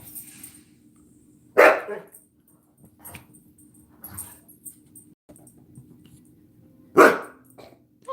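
A dog named Abra barks indoors in two loud, sharp single barks several seconds apart, with quieter snuffs and small sounds between them.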